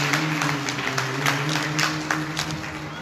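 Audience clapping during a Hindu religious discourse on the Bhagavad Gita, a steady patter of applause over a low hum for about three seconds.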